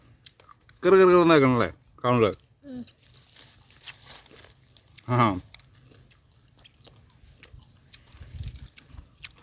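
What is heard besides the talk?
crunchy chewing of KFC-style fried mackerel with flattened rice coating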